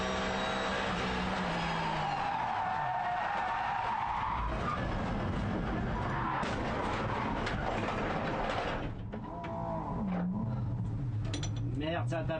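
A race car at the V de V 2014 Estoril round skids with a long screeching slide, then strikes something, loud and close, while a commentator talks over it in French.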